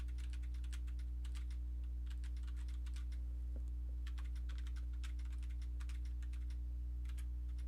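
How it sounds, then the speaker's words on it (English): Keys on a computer keyboard clatter in irregular bursts of quick taps with short pauses, close and crisp over a constant low electrical hum. "Just going across the keyboard."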